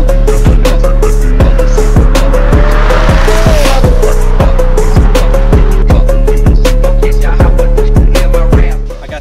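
A 2004 Lamborghini Gallardo with a Heffner twin-turbo engine makes around 1400 horsepower. It sounds loud and close, with a steady roaring engine note broken by rapid rhythmic popping pulses throughout, then fades at the end.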